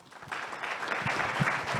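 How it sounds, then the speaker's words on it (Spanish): Brief burst of audience applause for the panelists at a conference session, a dense patter of clapping that swells over about two seconds. "les pido por favor un fuerte aplauso para todos los panelistas"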